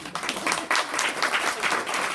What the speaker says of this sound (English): Is it worth a round of applause?